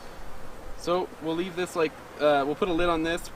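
Honey bees from a newly installed package buzz in a soft, continuous drone beneath someone talking close by.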